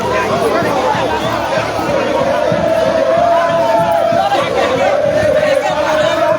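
Large crowd gathered at a blocked road in Liberia, a dense continuous roar of shouting and chatter with voices rising and falling, someone speaking over it.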